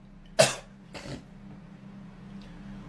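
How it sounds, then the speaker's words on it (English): A single sharp cough bursts out, followed a half-second later by a softer second cough, then quiet room tone. "Bro coughed like an iPad kid"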